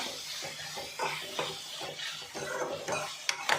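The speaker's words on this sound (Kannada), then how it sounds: "ಈಗ ಸ್ವಲ್ಪ ಟೊಮೊಟೊ ಎಲ್ಲ ಗೊಜ್ಜು ಥರ ಆಗುತ್ತಂತ ಫ್ರೈ ಮಾಡ್ಕೊತಾ ಇದ್ದೀನಿ" Tomato gravy for a capsicum dish frying in a pan as it is stirred, with a continuous sizzle broken by repeated scrapes and metallic knocks of the spoon against the pan, close and fairly loud.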